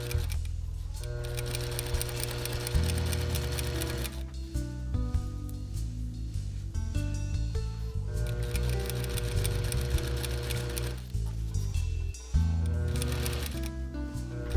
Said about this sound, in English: I make sure to keep a moderate amount of tension on the roll as I sew it.